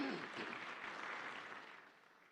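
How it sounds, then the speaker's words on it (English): Audience at a youth entrepreneurship leadership summit breaks into applause, a soft, dense wash of claps from a seated crowd that gradually fades out, heard at a distance. "So give yourself a big round of applause."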